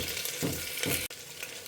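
Green chillies frying in ghee with ginger, a close crackling sizzle with a couple of louder spitting bursts as they are stirred, then a brief cut before the hiss resumes.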